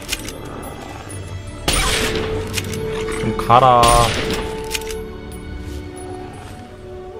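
Gunfire in the PC game Fallout 3, a dense burst of cracking shots with a ringing metallic rattle, loud and close, while someone talks over the action.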